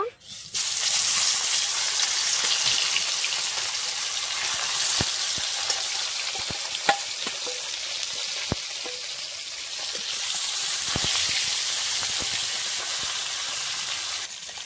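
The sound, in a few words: fish frying in hot oil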